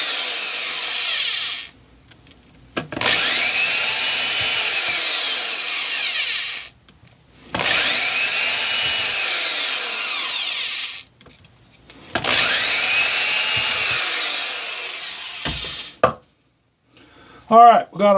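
A power drill bores holes through a Kydex sheath for a folding cleaver in three long, loud bursts of whining, grinding drilling, separated by short pauses, with handling clatter at the end.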